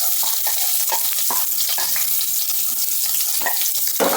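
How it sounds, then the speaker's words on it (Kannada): One sliced onion dropped into hot oil with cinnamon sticks and cloves, frying with a steady bright sizzle and occasional clinks and stirs, loud and close with no talking. "1 ಈರುಳ್ಳಿ ಹಾಕ್ತಾ ಇದ್ದೀನಿ"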